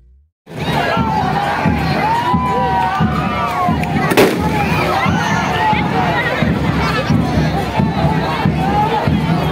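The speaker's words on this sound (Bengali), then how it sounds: "কত সুন্দরভাবে বাজিগুলো ফাটছে" Fireworks burst repeatedly at a Rath Yatra chariot festival, the cracks spread through a dense, loud crowd roar with shouting and cheering throughout, one sharp louder bang standing out midway.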